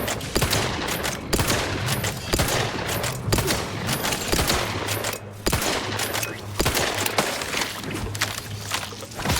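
Rapid bursts of gunfire from The Outer Worlds 2 crack out repeatedly, loud and close, in clustered volleys with brief pauses over a steady low hum.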